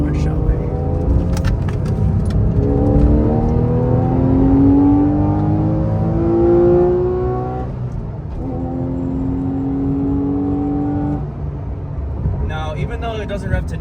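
A car accelerating on a highway, the engine note climbing steadily through the gears with clear rising pitch, a shift and renewed pull, loud and close, with people talking over it.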